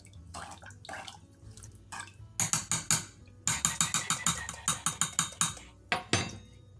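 Bottled water is stirred in a pot for prickly pear syrup, producing rapid, close metallic clinks and scrapes of a utensil against the pot in uneven bursts, with short quiet gaps between them.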